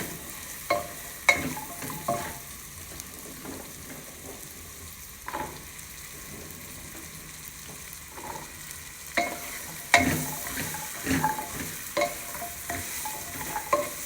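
Steady frying sizzle with repeated scraping and clinking of a spoon stirring carrots and peas in a pan, moderately quiet, no voices.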